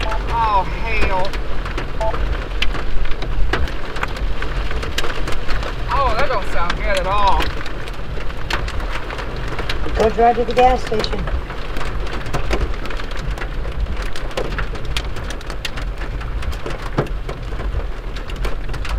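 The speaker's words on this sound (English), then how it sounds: "Oh, hail." Hail and rain pound steadily on a storm chaser's vehicle during an Iowa severe thunderstorm, a dense continuous drumming that runs the whole time, with people talking over it.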